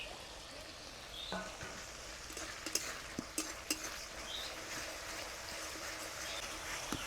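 Slit green chillies frying with turmeric and chilli spice paste for a fish curry, a steady sizzle under repeated clinks and scrapes of a spoon stirring in the pan.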